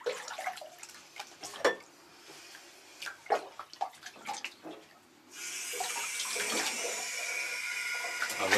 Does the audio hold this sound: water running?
yes